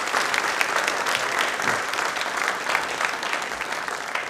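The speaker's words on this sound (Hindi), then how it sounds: "एक बार तालियां ज़ोरदार हो जाए इस बात पर" A large audience claps loudly and steadily at a question-and-answer programme for Ambedkar Jayanti, a dense sustained wash of applause throughout.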